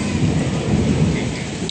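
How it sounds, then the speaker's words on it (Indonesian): A thunderstorm at a train station waiting room: steady heavy rain hisses on surfaces while deep rolling thunder rumbles underneath, dense and continuous throughout with no speech. "lagi badai guys, tuh lihat"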